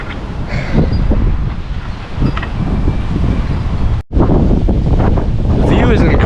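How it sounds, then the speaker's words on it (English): Strong gusty wind from a November windstorm roars and buffets the microphone continuously, a loud rushing blast that cuts out for a split second before surging back. "the view is incredible, but like so windy"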